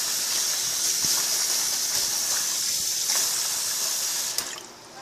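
Rice being rinsed under a running tap, a loud steady gush of water filling the vessel close by, continuous throughout before easing off slightly near the end.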